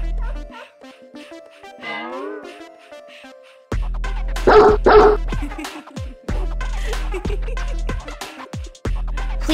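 Several short dog barks ring out close and loud in the second half, after an opening stretch of a voice over music-like tones, with a soft whimpering between barks.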